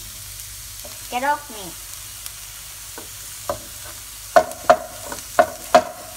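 Food sautés in a pan for a crustless quiche: a faint low sizzle with scattered sharp clicks and taps of a utensil breaking the pieces up, while a voice speaks briefly.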